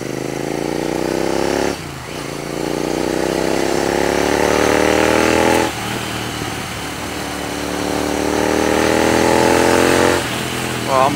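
A Royal Enfield Continental GT 650 motorcycle at high speed roars loudly and continuously, its engine pitch climbing through gears with brief dips at shifts.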